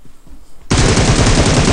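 Rapid automatic gunfire in the PUBG Mobile video game, a loud close burst of fast repeated shots that starts abruptly after a quiet moment and continues steadily to the end.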